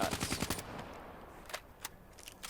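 Video game gunfire rattles off as rapid bursts of close, loud automatic shots, then breaks into a few scattered single shots against a quiet background.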